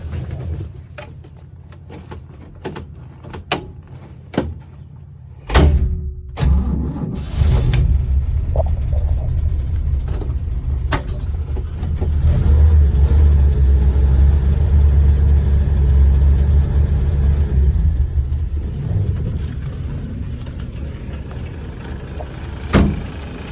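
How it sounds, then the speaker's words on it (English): An FJ43 Toyota Land Cruiser truck on a cold start after two days parked in mild weather: a few clicks and clunks, then the engine catches and settles into a steady, fairly loud low idle that runs on to the end. "I'm gonna do a cold start video."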